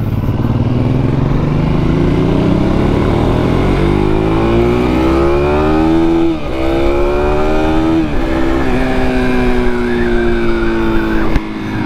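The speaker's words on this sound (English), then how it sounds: "I like the way the exhaust sounds from the factory" A Suzuki DR-Z400SM supermoto with its factory exhaust revs and climbs through gears, the exhaust loud and close, pitch rising repeatedly with brief drops between shifts.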